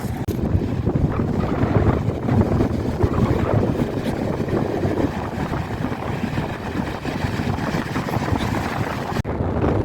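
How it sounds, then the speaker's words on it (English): Strong wind roars across the microphone on the North Norfolk coast at Salthouse, with large waves surging and crashing on the beach beneath it. The rumble stays loud and continuous throughout, with no voices. "As you can see, it's extremely windy."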